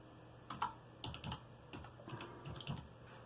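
Keystrokes on a computer keyboard, a quiet, close burst of irregular taps and clicks lasting a few seconds, with no talking.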